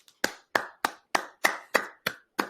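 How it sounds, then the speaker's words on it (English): One person claps steadily and firmly nearby, about eight sharp, evenly spaced claps with a slight ringing tail, alone and without speech. "Clap it up."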